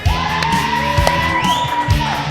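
A live crowd at a Georgetown Eagle football coaches' radio show at a burger restaurant whoops and cheers in short loud bursts over a steady background hum.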